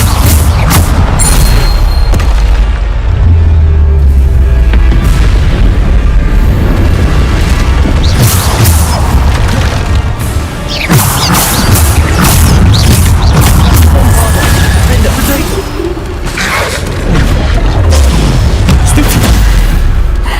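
Bombarda spell blasts in the Hogwarts Legacy game, loud booming explosions going off one after another across the whole stretch, with crashing debris and combat clatter between them.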